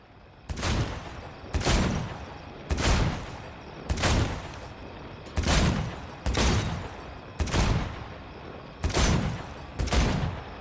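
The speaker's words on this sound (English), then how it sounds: "Let's do some shooting, I guess." Gunfire in Cyberpunk 2077 as bottles are shot at, nine loud, evenly spaced shots roughly a second apart, each a sharp crack with a brief booming tail.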